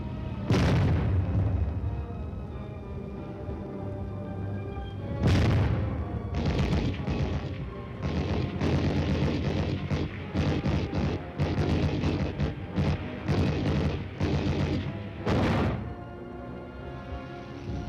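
An atomic artillery barrage during a coordinated military advance, heavy booming blasts rolling one after another, loud and dense, with brief lulls between volleys.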